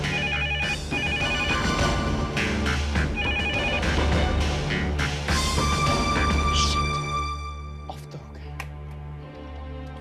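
A telephone bell ringing in repeated bursts, loud and near, with voices and background music running underneath before the ringing stops.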